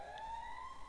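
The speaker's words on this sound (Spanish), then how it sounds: "Están activando la alarma." A faint electronic zone alarm siren in the Free Fire video game holds a steady rising tone, brief and alone.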